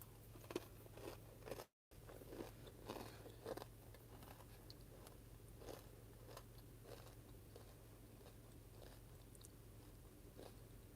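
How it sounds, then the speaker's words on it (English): Close, crisp crunching from biting and chewing food during a lunch, in repeated bursts over a steady low hum, with a brief dropout early on and no talk. "y'all forgive me for crunching in y'all ear"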